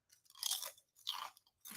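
Close, crisp crunching of Wilde barbecue-flavored protein chips being chewed, two loud bursts of crunch separated by brief pauses, with no talking.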